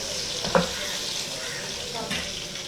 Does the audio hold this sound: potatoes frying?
yes